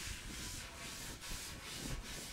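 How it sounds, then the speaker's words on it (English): Steady rhythmic scratching of sandpaper rubbed back and forth, sanding a thin layer of varnish off a wooden table, close and even, with no voices. "I'm just sanding back that thin layer of"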